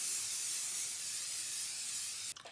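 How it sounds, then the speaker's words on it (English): A steady, loud hiss of an aerosol makeup fixing spray, actually hairspray, held for over two seconds, then cutting off abruptly. "I actually want to try this Crayolan fixing spray."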